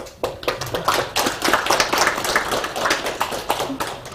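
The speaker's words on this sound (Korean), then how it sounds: "제가 박수로 한번 청하겠습니다." An audience claps to close a debate event. The individual handclaps sound distinct and somewhat sparse, coming in uneven rhythmic bursts close to the listener over a few seconds.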